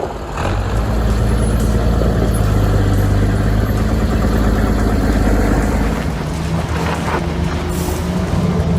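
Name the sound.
MB truck engine on a dangerous route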